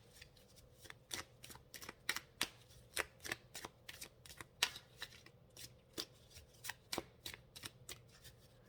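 Tarot cards being shuffled by hand: a steady run of crisp riffling snaps and soft slaps, close up, with a faint low hum underneath and no talking.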